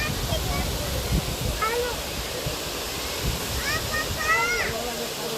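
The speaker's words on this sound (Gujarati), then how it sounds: "પાણીમાં ધોધ પડે છે." A waterfall at the Galdhara Khodiyar temple pours steadily into water below. Its broad, continuous rush fills the scene while people talk nearby over the roar.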